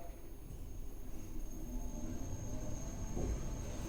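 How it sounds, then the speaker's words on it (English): A Pickerings lift motor hums steadily inside a museum building, a continuous low mechanical drone with faint rumbling and a brief louder clunk near the end, no talking. "This was a really nice Pickerings lift. A very awesome motor."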